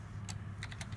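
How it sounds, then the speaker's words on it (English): Typing on a computer keyboard in a classroom lab setting, a few quick bursts of key clicks over a steady low hum, fairly close and moderately loud with no talk. "Admire his typing skills."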